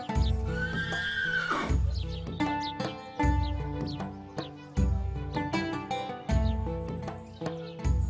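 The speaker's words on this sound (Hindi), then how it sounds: "ये वही घोड़ा है जिसके बारे में मैंने कहा था" A saddled horse gives a long, loud whinny, followed by rhythmic hoof clip-clops repeating steadily throughout, close and clear over a musical background.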